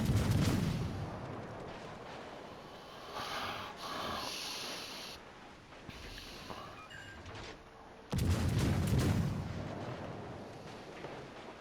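Naval guns firing in World of Warships Legends, a battleship-style match against a destroyer: repeated heavy booming salvos, with a loud blast near the end, under layered game effects and no talk.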